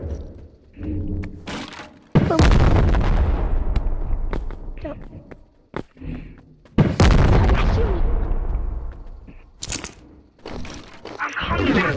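RPG fire and explosions in the Animal Company video game: heavy booming blasts arrive in two long loud bursts with sharp thuds and cracks in between, close and dense, with game noise around them.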